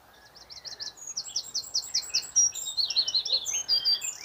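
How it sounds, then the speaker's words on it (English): A European robin sings in an abandoned graveyard, a series of thin, high, rapid chirps and warbling phrases that build in loudness, with no talking and little background sound. "you may have heard that bird singing, and it's actually a little robin."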